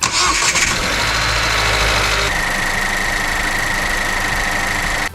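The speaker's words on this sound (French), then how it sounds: "Alors on fait un premier démarrage." A Renault Mégane IV with the 1.3 TCe H5H engine cranks and fires, then settles into a steady, close idle hum with a higher whine that continues alone to the end.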